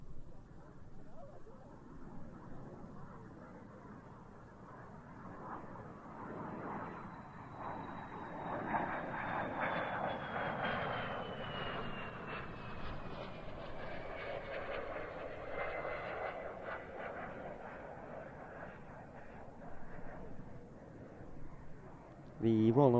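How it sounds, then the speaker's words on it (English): Vampire FB-52 jet of the Royal Norwegian Air Force historic flight arriving at RIAT, a rising then fading jet whine and rumble passing at moderate distance, with a commentator talking over it. "here comes the Vampire FB-52 from the Royal Norwegian Air Force historic"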